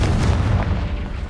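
Booming Confringo spell explosion from Hogwarts Legacy, a heavy low rumble that swells early and holds loud and near throughout, without any talking.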